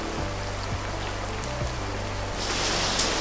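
Heavy rain pouring steadily outdoors on a monsoon day beside a home kitchen where udid dal bhaji are being fried, a dense continuous hiss with a few low thumps and no voices.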